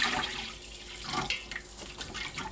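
Water is poured and stirred with sea salt, ginger powder and ground pepper to make a brine for pollack, giving a soft, close splashing and sloshing that swells and fades in uneven pulses.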